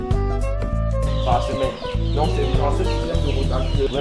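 Chickens cluck repeatedly over a steady low mechanical hum, with busy overlapping calls from a flock close by in an organic chicken production unit.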